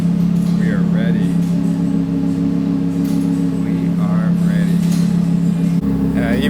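An Audi R8 fitted with a new Quicksilver exhaust idles with a steady, deep, rumbling drone close by, while people talk over it and the tone shifts slightly near the end.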